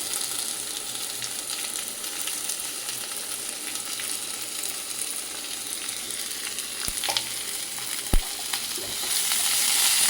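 Steady sizzling of onion, ginger and green chilli frying in a hot pan, with a couple of sharp utensil clacks near the end as it is stirred.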